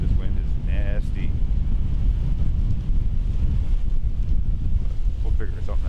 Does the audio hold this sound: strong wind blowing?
yes